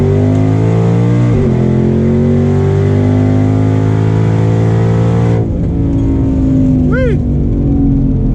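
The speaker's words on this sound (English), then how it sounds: "If y'all can hear the turbo spooling up." A twin-turbo 650 hp Ford Mustang 5.0 on a city drive gives a loud, steady engine drone with tones that climb as it accelerates, then a sudden drop as the throttle eases off, with a brief rising whine near the end.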